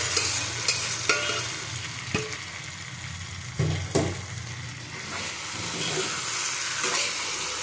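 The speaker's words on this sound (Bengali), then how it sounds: "এবার পটল আলুটা দিয়ে দেবো এর মধ্যে, দিয়ে আবার এর সাথে ভালো করে কষিয়ে নেবো।" Pointed gourd and potato pieces fry and get stirred in a spice paste for a fish curry, a low sizzle broken by several scraping, knocking stirs of the spatula against the pan.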